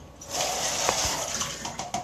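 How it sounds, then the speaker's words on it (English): Water poured out of a container into a sink or basin, a steady splashing rush that runs for about two seconds, close and moderately loud, with a few small spatters near the end. "let's pour this out here"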